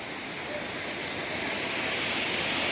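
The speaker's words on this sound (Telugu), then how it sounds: "this is the final water falls" Manikpur waterfall near Zaheerabad pours in a steady broadband rush of falling water, a constant hiss that swells slightly louder toward the end, heard up close with no distinct voices.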